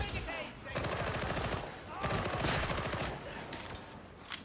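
Rapid automatic pistol fire in the video game Warhammer 40K Darktide, with loud sustained bursts of fast shots broken by short gaps.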